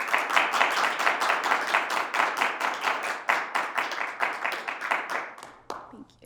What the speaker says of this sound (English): Let's give ourselves a round of applause for being here today.